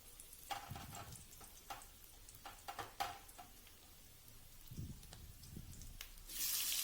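Garlic, curry leaves, onion and tomatoes sautéing in oil for tomato pepper rasam, a soft, close sizzle with a few stirring scrapes and a brighter hiss rising at the end.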